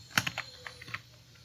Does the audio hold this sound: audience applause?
no